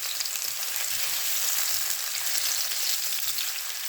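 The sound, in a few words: onions frying in hot ghee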